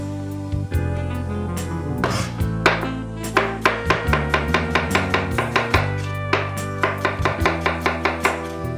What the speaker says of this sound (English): Just take a half onion, cut it in half, lay it on its side, and just go ahead and chop it up.